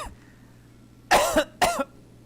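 Two short, sharp coughs from one person close by, the second following quickly after the first over a quiet background.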